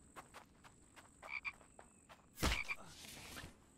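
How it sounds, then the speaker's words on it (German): A frog croaks in the survival video game The Infected, with several short, rhythmic croaks at close range followed by a louder burst, set against quiet ambient game noise and no speech. "Dann habe ich irgendwo einen Frosch rumfliegen"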